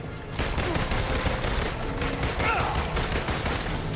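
Gunfire in the Avengers video game, a dense steady barrage of shots lasting throughout, with music and game effects layered in and brief voices from characters.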